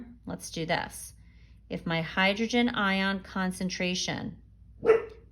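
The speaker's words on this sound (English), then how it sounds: "oh, that's my dog barking in the background." A dog barks several times in the background, yips scattered between and under a man explaining a chemistry problem.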